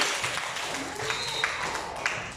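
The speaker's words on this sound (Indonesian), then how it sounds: "tepuk tangan untuk Restu dan Silvi" Classroom applause for two students, Restu and Silvi, during a lesson: a short burst of scattered clapping from a group of children, moderately loud, with faint chatter in the room.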